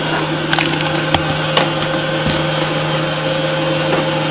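Electric mixer churning boilie bait dough in a home workshop, a steady loud motorized whir with a constant drone, punctuated by a few brief clunks of the dough against the bowl.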